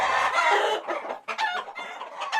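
Several chickens cluck and squawk nearby in overlapping bursts, loud and busy with no talking.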